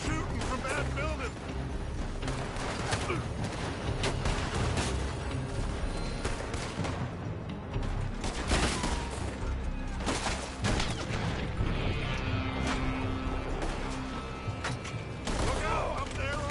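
Gunfire from a shootout in the video game Red Dead, with dense volleys of rapid shots and crashes overlapping continuously under shouting voices.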